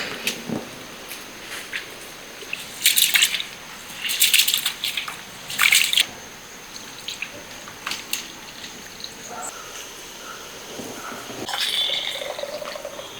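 Seeraga samba rice being washed in water for a biryani, with intermittent splashes and squishing swishes in short bursts, close by and fairly quiet between the washes.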